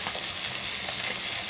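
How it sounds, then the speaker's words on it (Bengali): Three live rohu fish fry in hot oil in a pan, giving a loud, steady, unbroken sizzle and crackle close up, with no talking. "মাছ ভাজা হচ্ছে এখানে 3টে রুই মাছ, জ্যান্ত রুই মাছ নিয়েছি।"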